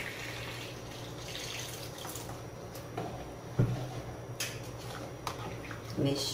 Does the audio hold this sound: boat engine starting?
no